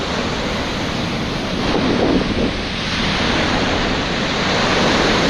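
Ocean surf rolling onto Araw Beach, a steady broadband wash of waves with wind buffeting the microphone, swelling slightly around two seconds and continuing without talk.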